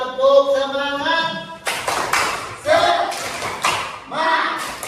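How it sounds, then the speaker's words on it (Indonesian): A classroom group claps out a rhythmic spirit clap during a teaching session, with sharp, patterned bursts of hand claps in quick sequence that follow a short spoken prompt at the start. "coba tepuk semangat"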